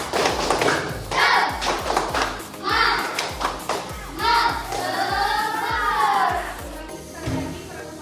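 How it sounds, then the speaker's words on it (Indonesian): An Indonesian primary school class claps out the rhythmic 'tepuk semangat' pattern, sharp clap bursts in a repeating beat mixed with children's chanting voices. "Tepuk semangat."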